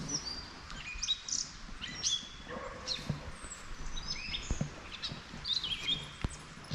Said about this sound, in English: And hear the birds.